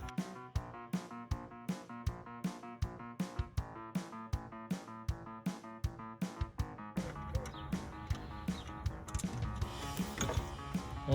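Ratchet wrench clicking steadily while loosening the bottom alternator bolt on a 2003 Toyota RAV4, a rapid run of sharp close metallic ticks that turns into busier mechanical rattling near the end, with no talk.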